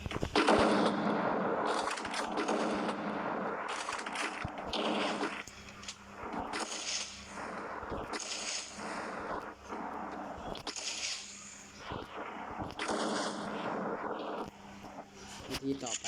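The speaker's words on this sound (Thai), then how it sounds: "ให้เราเล็งยิงสับเล็งยิงสับทำงี้เร็วๆนะ" Rapid gunfire in a shooting video game, bursts of shots repeated in quick aim-and-fire cycles over about sixteen seconds, with a voice talking over much of it.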